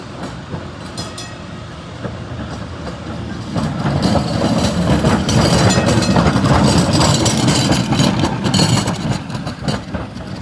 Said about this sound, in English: So that tram that just came past us